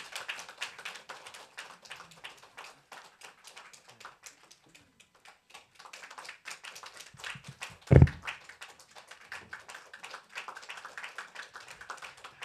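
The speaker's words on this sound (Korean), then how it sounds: "다 같이 박수로 환영해 주세요." A church congregation at a Sunday service in Incheon claps together in welcome, a steady, continuous patter of many hands with one louder thump partway through.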